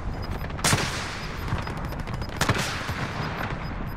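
Aerial bombardment in Call of Duty Warzone, with two loud, sharp blast impacts over a constant rumbling background of distant gunfire, heard alone without talk.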